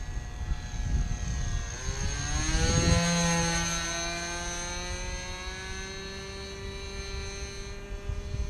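Whittman Tailwind RC model airplane flying a pass before landing, its whining propeller motor sweeping sharply in pitch as it passes close by, then holding a steady buzzing drone as it moves away, with no speech.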